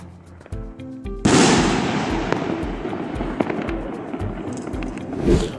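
A single-shot 50 mm firework mortar bursts with a loud, sharp explosion after a few short pops, followed by a long crackling, rumbling decay with scattered small bangs.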